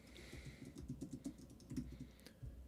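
Fingers tap on a computer keyboard while entering a title in editing software, a quick irregular run of soft close clicks with brief pauses between bursts, and no one speaking.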